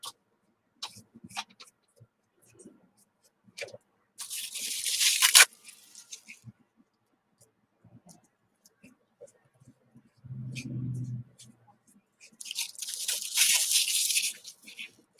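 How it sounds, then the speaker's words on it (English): Paper is crumpled and torn by hand during a mixed-media craft project on a wooden cross, with bursts of crackling and ripping separated by quiet gaps and a short low sound in between. "So I crumpled it once and then I ripped it and then I crumpled it again."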